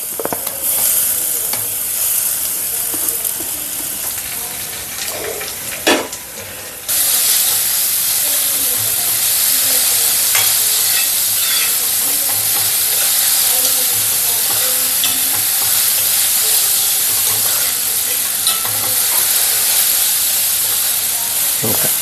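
Beetroot sizzles steadily in a frying pan with chillies and curry leaves, a dense continuous hiss broken by scraping stirs and a brief dip around the seventh second, no talking.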